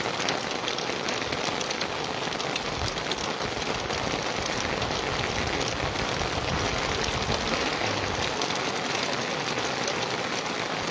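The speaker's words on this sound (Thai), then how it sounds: "ฝนดูจะหนาเม็ดเนอะ" Heavy rain pours steadily at an outdoor ceremony site, a dense, loud, unbroken hiss of drops on surfaces lasting throughout with no voices.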